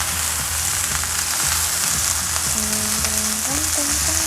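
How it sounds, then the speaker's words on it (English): Pot roast meat browns in a hot pan with a constant crackling sizzle up close, while a soft melodic tone plays in the background and no one speaks. "I'll brown it some more on that side too."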